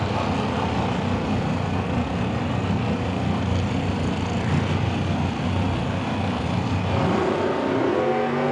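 A 32 Bantam nostalgia drag race car accelerates at a drag strip, a loud sustained engine roar that holds for several seconds and then shifts in pitch near the end, with no voices.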